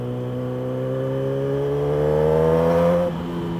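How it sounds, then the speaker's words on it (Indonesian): A Kawasaki ZX-10R Anniversary Edition litre-class sport bike with an Austin Racing exhaust revs up steadily, its engine note climbing in pitch and loudness before dropping off abruptly near the end, heard alone without talk. "Dan yang gue seneng itu tuh suara knalpotnya itu loh."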